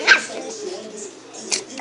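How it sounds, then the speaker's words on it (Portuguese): A small dog gives a couple of short, sharp barks close by, one at the start and another near the end, with people talking around it. "Tu viu o cachorrinho?"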